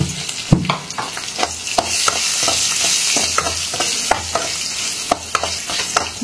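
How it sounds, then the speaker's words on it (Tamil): Dried red chillies crackle and sizzle in hot oil with garlic and asafoetida, a dense steady frying hiss broken by repeated sharp stirring scrapes close by. "மிளகா வந்து அந்த எண்ணெயில் நல்லா வறுபட்டுட்டோம்"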